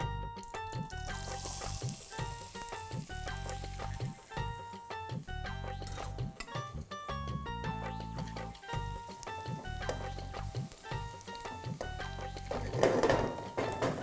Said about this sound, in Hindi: ये लो जी, प्याज फ्राई हो गया।